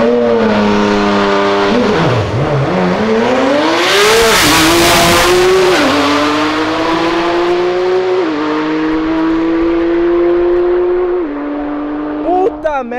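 Mercedes C63 AMG sports car accelerating hard past at a street car meet, loud rising engine roar with gear-shift dips and a swelling pass-by peak, with crowd voices under it.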